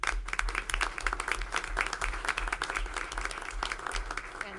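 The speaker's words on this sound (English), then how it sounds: "So let's give her a round of applause." Audience applause at a combined public meeting, a steady wash of clapping of moderate loudness that carries through the whole short stretch without a break.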